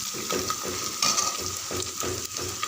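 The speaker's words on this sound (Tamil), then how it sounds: "வெங்காயம் இந்த அளவுக்கு நல்லா செவக்க வதங்கணும்" Onions sautéing in a pan while being cooked down for a lunch box rice dish, a steady close sizzle with rhythmic stirring scrapes throughout and no talking.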